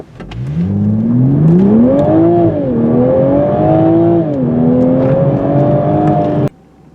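A 2021 Toyota Supra six-cylinder engine accelerates hard from a standstill, its loud, close drone climbing in pitch through several gear changes with brief dips between them, then cutting off abruptly at the end.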